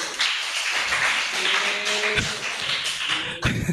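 Religious lecture audience clapping together, a dense wash of hand claps that carries on steadily for several seconds, with a few sharper taps near the end.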